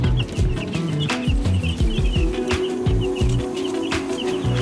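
A brooder crammed with about 150 baby chicks gives a dense, continuous chorus of high peeping and chirping, close by and steady throughout, with scattered louder individual cheeps and low handling noises underneath.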